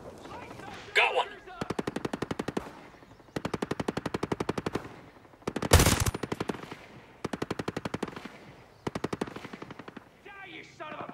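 Bursts of automatic gunfire in Ghost Recon Breakpoint, rapid rhythmic volleys separated by short pauses, with one louder blast near the middle, close and loud.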